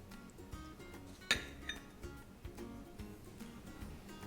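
A spoon stirs nuts and seeds into a bowl of breakfast cereal, making quiet scattered clinks and scrapes, one sharper ring standing out among the soft taps.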